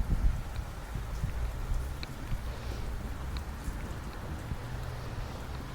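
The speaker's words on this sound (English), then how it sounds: "I've had enough of walking around the rain up and down the main street of Parkes" Steady rain falls along the main street of Parkes, a continuous soft hiss of drops with low rumbling wash, fairly even throughout and with no voices.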